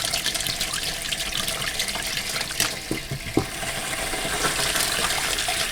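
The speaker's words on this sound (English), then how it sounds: "Let's go and test the mixer tap out inside." Water runs steadily from a mixer tap inside a caravan, fed by a newly installed semi-permanent gas hot water system, a continuous broadband splashing stream with a few small clunks near the middle and no talking.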